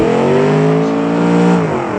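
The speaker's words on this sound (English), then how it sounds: "some of my cars are really loud to the point where my mic can hear it" A loud car engine in the BeamNG driving game, the Automation-built "Brute Bueno", revs with a strong steady harmonic drone that climbs slightly and then drops off near the end, close and continuous.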